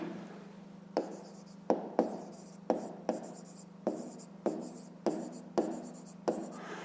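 Digits are written with a pen for a 5th-grade maths exercise, a close series of around nine crisp scratching strokes in a fairly regular rhythm over a low steady hum, with no voices.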